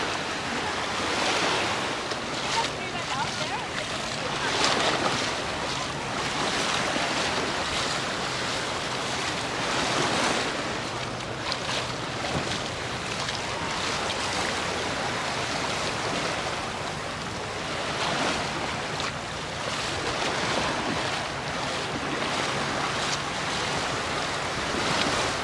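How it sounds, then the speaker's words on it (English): Waves wash steadily onto a beach at Alcudia in July, a continuous surf roar with gentle swells, softened by some wind noise and no voices. "Something about this beach in it really is lovely."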